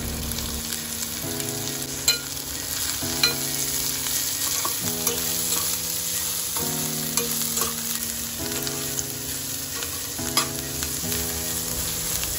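Onion and cabbage stir-frying with chopped ginger and garlic in a hot pan: a loud, steady sizzle with rhythmic tossing and scraping strokes every second or so, close up, no voices.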